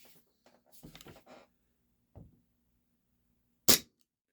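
An HFC DarkHawk gas blowback airsoft pistol running black gas and 0.12 gram BBs lets off a single sharp, loud crack near the end, after soft low murmuring and quiet handling sounds.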